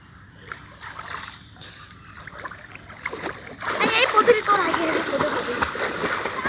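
Water splashes in a village pond where several people are learning to swim, growing louder and choppier in the second half as voices talk and call out over the churning.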